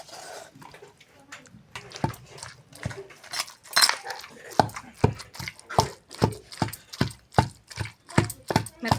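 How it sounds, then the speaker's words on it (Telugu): Spinach pounded in a stone mortar gives a series of dull, regular thuds. They start sparse, then settle into a steady rhythm of close, firm strikes. "ఇలా రోట్లో దంచుకుంటే బాగుంటుంది టేస్ట్"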